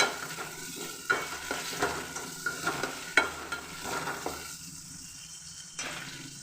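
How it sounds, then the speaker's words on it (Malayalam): Onion, ginger, garlic and curry leaves fry in oil for rasam, with a close sizzling hiss and a run of sharp stirring scrapes and taps that thin out toward the end, no speech. "ഇത് ഇത്രയും കൂടെ എണ്ണയിൽ കിടന്നങ്ങ് മൂക്കണം. കരിയരുത്, മൂപ്പിച്ചെടുക്കണം."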